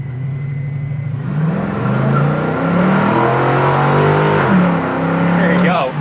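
An LS-powered 1979 Pontiac Firebird T-top revs and accelerates with a loud, steady engine roar that climbs in pitch, heard from close by under a voice.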